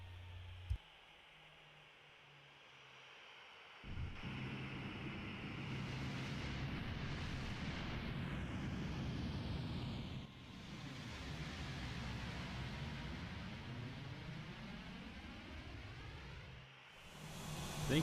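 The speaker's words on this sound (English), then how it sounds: "this Boeing 737-100, which was developed by Captain Sim. It'll be landing at Union Island International Airport" Boeing 737-100 landing on a short 2,400-foot runway at Union Island International Airport in a flight simulator, with a steady hissing airplane engine and wind roar that swells after a quiet start and ends with a brief click.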